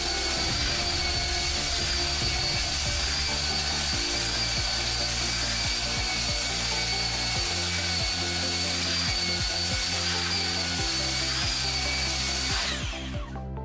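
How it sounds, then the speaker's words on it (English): A belt sander with a 60 grit belt grinds steadily against an ash wood slab, a continuous gritty whir with faint bumps and scrapes throughout, cutting off at the very end. "I used my belt sander with a 60 grit sanding belt."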